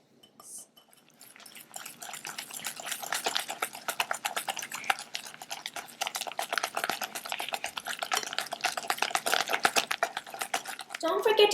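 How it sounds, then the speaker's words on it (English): Butter mixed with sifted egg yolks is stirred by hand for a cookie dough, giving rapid, rhythmic scraping and tapping of a utensil against a bowl that continues steadily, fairly close and moderately quiet. "we're going to add the sifted egg yolks into the butter mixture and then mix it through"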